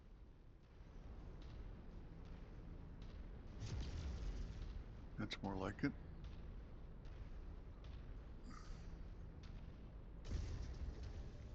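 Rumbling explosions in the mech combat game MechWarrior 5 boom in the distance under steady game noise, with one sharper burst in the middle and a voice speaking briefly.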